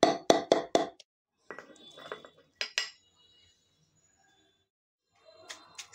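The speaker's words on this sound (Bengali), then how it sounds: "আমি তো হাত দিয়ে কচলাচ্ছি না, হামানদিস্তার মধ্যেই কাজটা সেরে নিচ্ছি" Onion, chili and dried fish are pounded in a metal mortar and pestle, giving sharp ringing clanks in a quick burst of four, then scattered knocks and scraping with quiet pauses.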